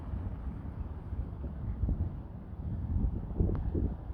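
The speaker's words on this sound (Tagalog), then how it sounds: "Dito mahangin-hangin pa dito." Low gusty wind rumbles steadily against the microphone outdoors near a shopping mall, with faint distant background noise and no talking.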